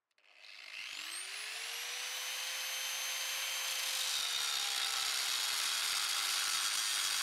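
An angle grinder fitted with a thin cutting disc cuts steadily, its rising whine settling into a loud, continuous high-pitched scream with a sustained tone throughout.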